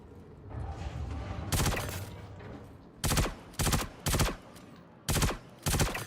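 Bursts of automatic gunfire from the player's weapon in the space shooter Star Citizen, five or six loud, close volleys in quick succession after a stretch of lower rumbling game noise.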